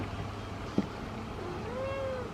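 A soft, drawn-out cat meow rises and falls near the end, quiet against a steady background hum, preceded by a small click.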